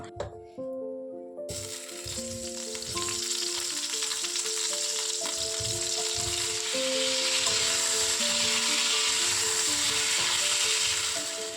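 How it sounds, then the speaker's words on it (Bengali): Potatoes frying in hot oil start with a sudden burst of sizzle that settles into a loud, continuous hiss, with soft melodic tones running underneath. "ভাবছি আলুগুলো একটু ভেজে রান্না করব"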